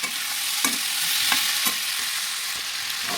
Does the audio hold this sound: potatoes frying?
yes